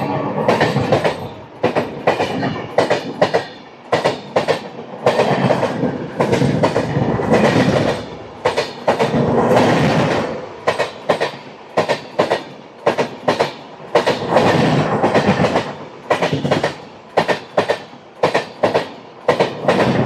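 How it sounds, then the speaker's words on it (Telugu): Train 12840 Howrah Mail, running from MGR Chennai Central to Howrah, clatters past close by, loud clickety-clack of wheels over rail joints in a rapid, irregular rhythm throughout. "train number 12840 MGR Chennai central నుంచి హౌరా వరకు వెళ్ళి హౌరా మెయిల్"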